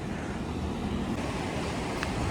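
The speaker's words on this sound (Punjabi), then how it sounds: "ਇੱਥੋਂ ਦੀ ਨਹਿਰ ਜਾ ਰਹੀ ਹੈ ਬਹੁਤ ਪਾਣੀ ਤੇਜ਼ ਹੈ ਇਹਦੇ 'ਚ" Fast-flowing canal water beside the Sarsa river rushes in a broad, steady roar, close and unbroken, with some wind buffeting the microphone.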